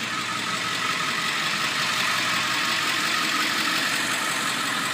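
A van engine idles steadily, a continuous even rumble with a broad hiss on top, close and constant for several seconds with no talk.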